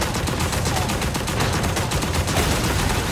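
Rapid, continuous gunfire from mech gun weapons in Override Mech City Brawl, with Setesh in a free-for-all match, forms a loud, unbroken burst of shots and blasts.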